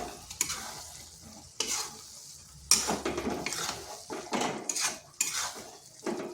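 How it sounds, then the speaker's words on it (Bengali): Ghee being stirred into ridge gourd curry in a pan, a spoon scraping and clinking against metal in irregular strokes over a light sizzle, close and clear with no voices. "ঘিটা ভালোভাবে মিশিয়ে নিলাম।"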